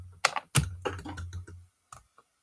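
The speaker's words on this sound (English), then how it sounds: "I'm having a problem with the keyboard." Typing on a computer keyboard, close and fairly loud, a short irregular run of clacking keystrokes that trails off into a couple of isolated taps, with no talk.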